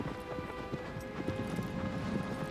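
Horse hooves clip-clop at a brisk, steady pace in Shadow of the Colossus, fairly quiet beneath faint ambient game sound.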